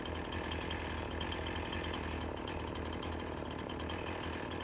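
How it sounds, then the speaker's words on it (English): A chainsaw cutting a log in Farming Simulator 19 gives a steady, loud, buzzing engine drone that holds without a break from start to end, with no voices over it. "Now align your chainsaw vertically and cut a small log about 1 meter."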